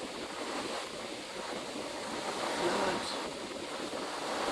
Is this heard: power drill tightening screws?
no